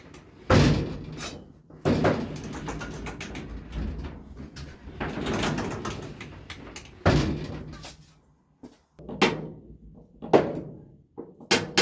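A jammed garage door on a driveway being worked on gives a series of loud irregular clanks, bangs and scraping rattles, with short pauses between bursts of metal noise.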